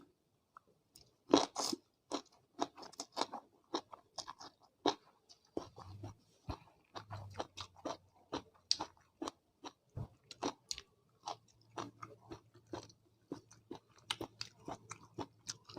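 Someone chewing and biting a peanut salad eaten with rice noodles, close-up crunchy bites and wet mastication in quick irregular bursts, fairly quiet, with no talking.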